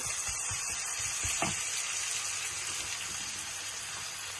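Steady sizzling of vegetables frying in hot oil, close up, with a few soft clinks and stirring sounds near the start and no talking.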